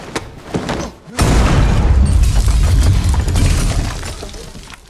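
A grenade blasts in the Iraq war film Warfare, a sudden loud boom with a crash of debris that rolls into a sustained roar after a few brief thuds.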